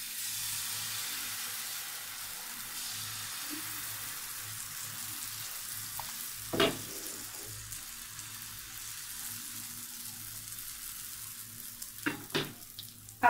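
Pattisapta pitha batter sizzles in an oiled pan: a steady soft frying hiss throughout, with a few brief louder clinks or scrapes around the middle and near the end.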